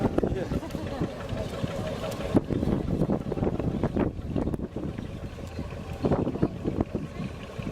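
Historic canal narrowboat Helen, an iron-hulled Dorado built in 1942 by Harris Brothers, chugs past at a historic boat rally with a steady low engine throb, wind buffeting the microphone and people talking nearby.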